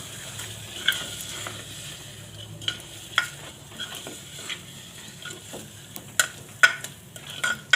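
Soaked split moong dal with tomatoes being stirred in hot oil in a home kitchen, a steady sizzle broken by irregular spoon scrapes and clinks against the pan, close by with no talk.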